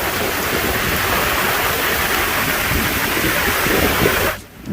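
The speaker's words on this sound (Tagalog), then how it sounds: "Grabe ang lakas ng ulan" Heavy typhoon rain pours down in a dense, steady roar for several seconds in Boracay, Philippines, then cuts off abruptly near the end.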